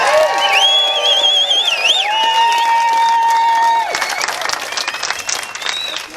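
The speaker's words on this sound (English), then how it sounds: "Let's give them a round of applause as well" An outdoor Canada Day rally crowd in Ottawa claps and cheers, with whoops and sustained high shouts and whistles riding over steady applause, loud and close, thinning into scattered clapping toward the end.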